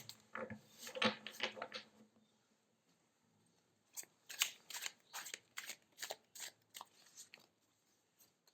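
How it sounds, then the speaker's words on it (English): Tarot cards are shuffled up close in two bursts of riffling and rubbing, separated by a quiet pause, with no voices. "Let's shuffle a bit."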